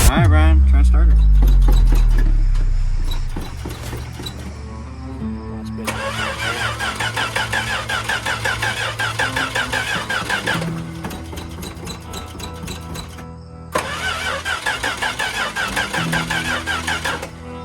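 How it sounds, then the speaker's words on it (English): An LS-swapped Dodge D100 pickup engine is cranked by the starter in repeated long bursts after an opening loud thump, with a rapid rhythmic churning that stops and starts again but never catches, heard close up. "Alright, Brian, try and start her."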